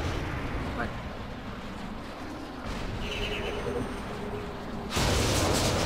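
Missiles explode with heavy rumbling booms in Saints Row 3 amid steady loud game noise, ending in a sharp, bright blast, while voices talk over the action.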